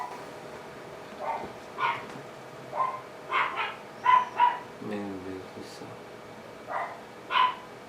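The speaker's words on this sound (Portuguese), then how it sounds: "Os cachorros têm que latirem." Several dogs bark in short bursts, some near and some farther off, with a voice speaking briefly among the barks.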